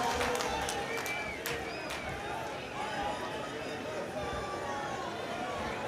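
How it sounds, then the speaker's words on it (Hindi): A large crowd at a Rahul Gandhi rally on Delhi's Ashok Vihar Ramlila Maidan bursts into dense, sustained applause and cheering. The clapping is loud and continuous, and voices mingle in the din. "ज़रा जोरदार तालियों से स्वागत करें, जोरदार तालियों से।"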